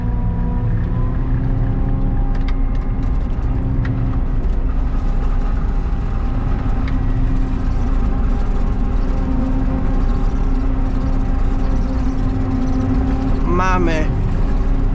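A New Holland forage harvester cuts corn for silage with a ten-row header, its engine and cutting drone steady and loud throughout, close and continuous, with a brief higher whine near the end.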